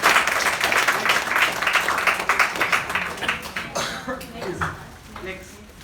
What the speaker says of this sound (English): Please clap your hand for yourself.